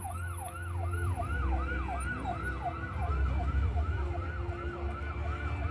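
Ambulance siren from the Polri medical unit in a police convoy with Sabara motorcycle riders and the Inafis team at an SPN Polda Banten event. A rapid, rhythmic wail repeats steadily and sounds fairly close, with engine rumble underneath.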